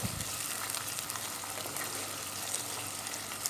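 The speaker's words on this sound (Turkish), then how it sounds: "sosumuzu soğanlarla birlikte güzelce pişiriyoruz" Tomato sauce sizzling in a pan with onions for a black cabbage and chickpea stew, a steady close hiss of frying with faint stirring scrapes throughout and no talking.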